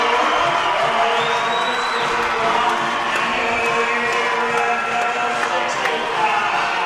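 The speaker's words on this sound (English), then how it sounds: "The crowd explodes like a playoff win after this one" Loud, steady roar of a celebrating crowd in a gym after an Evanston Red Devils basketball win over Kelly Walsh, with a whistle and scattered shouts over the din and an announcer talking over it.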